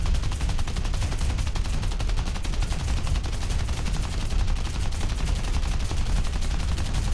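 Continuous rapid fire from aircraft guns in War Thunder, a steady unbroken mechanical rattle at constant loudness across the whole stretch with no pauses.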